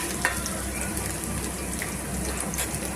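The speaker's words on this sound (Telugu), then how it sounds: "ఇట్లా ఉల్లిపాయలు, పచ్చిమిరపకాయలు, కరివేపాకు కొంచెం ఫ్రై అవ్వనివ్వాలి." Onions, green chillies and curry leaves frying in oil for a fish curry make a dense, continuous hiss and crackle, close and even throughout with no clear talking.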